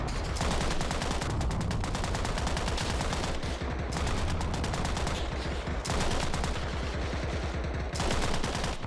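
Sustained machine gun fire in the video game Arma Reforger, loud, rapid and continuous bursts of automatic shots with only short pauses between them and no talking over it.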